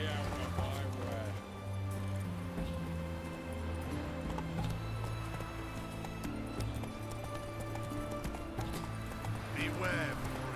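Roach the horse gallops in The Witcher 3, with rapid, rhythmic hoofbeats running steadily beneath a low game score while someone talks over the ride.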